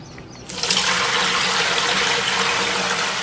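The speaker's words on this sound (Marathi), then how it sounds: "भांड्यांमध्ये पाणी जिरतं आहे त्याचा आवाज पण छान येतोय" Cold tap water runs steadily over new clay cooking pots, a loud continuous splashing and gushing that starts abruptly after a brief quieter moment and carries on close up without talk.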